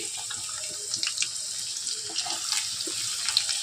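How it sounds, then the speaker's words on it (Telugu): Sliced onion and green chili frying in hot oil, a steady close hiss and sizzle that runs throughout, with faint crackles and stirring clinks and no voices. "నూనె అయితే వేడైందండి. అందులో ఉల్లిపాయ, పచ్చిమిర్చి"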